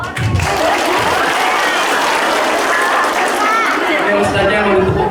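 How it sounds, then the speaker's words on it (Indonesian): Dense audience applause fills a mosque during an Islamic sermon, steady and loud throughout with a crowd murmur mixed in. "Ini ustaznya mau ditepuk tanganin melulu."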